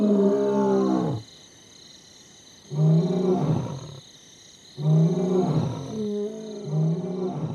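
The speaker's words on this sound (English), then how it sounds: "the lions square off with their roars" Wild lions taking over a pride roar in a series of deep, loud bouts, each a rising run of grunting calls, separated by quiet pauses, with no voices present.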